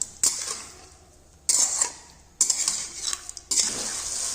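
Vam (eel) fish pieces frying in a pan over medium heat, stirred in four distinct bursts: each turn brings a sharp spatula scrape and a surge of loud sizzling, easing back to a quieter fry between stirs.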